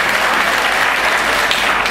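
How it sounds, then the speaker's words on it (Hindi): A crowd at a community workers' gathering claps steadily for a newly welcomed guest, dense and loud applause filling the hall without a break. "जोरदार तालियों से उनका भी इस्तकबाल करें।"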